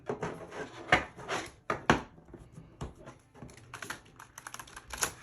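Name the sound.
shuffling a deck of large tarot cards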